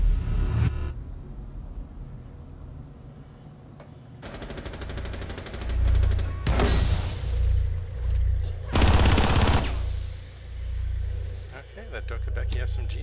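Bursts of SMG fire in Rainbow Six Siege, a Doka Becky SMG on the Hereford Base map, come in several long, loud rattling volleys separated by quieter stretches, with people talking throughout.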